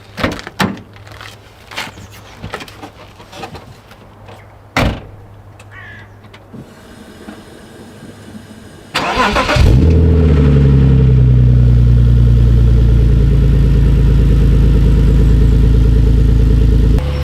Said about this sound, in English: here's a cold start.